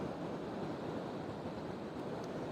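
Ocean surf at Strands Beach in Dana Point, California, a steady broad roar of breaking waves mixed with wind buffeting the microphone, continuous and fairly loud with no talk.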